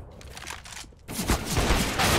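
A rapid burst of gunfire in CS:GO crackles in quick succession, loud and dense, with a second heavier volley following a brief dip.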